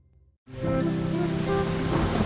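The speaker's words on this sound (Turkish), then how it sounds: "Oyun parkında yağmur yağıyor." Cartoon rain pours steadily over a playground. Silence comes first, then a sudden onset of dense, loud, even rainfall, with low rumbling and tonal layers underneath.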